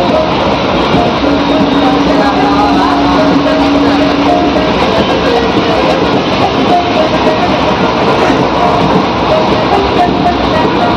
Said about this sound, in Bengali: তো দেখো ট্রেনে উঠে পড়লাম মা মেয়ে